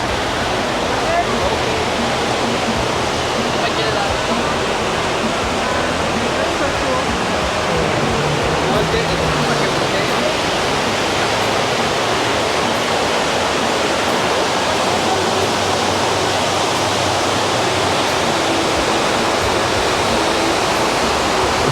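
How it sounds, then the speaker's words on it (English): A small artificial waterfall on the Las Vegas strip produces a loud, steady rushing roar that continues unbroken and close throughout. "we're approaching a little mini waterfall here"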